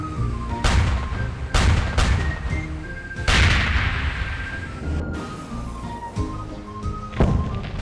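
Cannons firing in an animated pirate ship battle, a series of heavy booms and thuds in quick succession, loud and close, layered with dramatic music.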